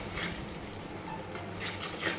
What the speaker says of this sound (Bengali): এখন লোটে মাছ ভুনা চলছে